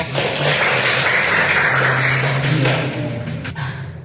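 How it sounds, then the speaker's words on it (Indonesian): Students in a classroom applaud a group that has just finished presenting, a burst of dense clapping that is loud at first and tapers off over about four seconds. "Dan tepuk tangan untuk kelompok"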